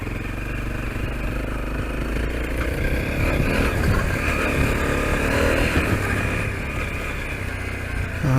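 A Honda CRF250L dirt bike runs continuously while riding off-road at Prairie City Off Highway Vehicle Park, a steady close engine drone with clattering over rough ground, rising and easing slightly without pause.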